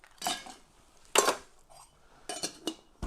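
A handful of ice cubes, about six, go into a mocktail shaker, making several clinking bursts as they knock against the hard container, with quiet gaps between the drops.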